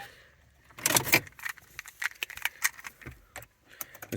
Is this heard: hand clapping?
no